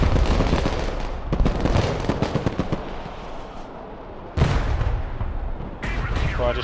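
Gunfire and artillery in the Broken Arrow war game, a dense burst of rapid sharp shots and booms followed by heavier blasts, loud and close with a faint voice underneath.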